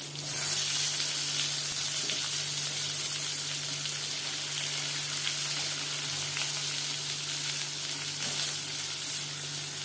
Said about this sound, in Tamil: ஸோ அது நல்லா பொரிஞ்சு வரும்போது ஆனியன் சேர்த்துக்கலாம்.